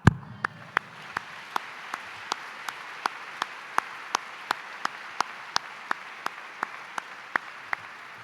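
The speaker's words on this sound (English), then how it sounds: "Actually, now we're clapping." Clapping at a university gala: single sharp claps in an even, steady rhythm, about three per second, crisp and distinct over a quiet room rather than a dense wash of applause.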